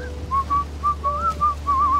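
A person whistles a short wavering tune in clear, bright notes, several phrases in a row over a low steady hum, with no talking.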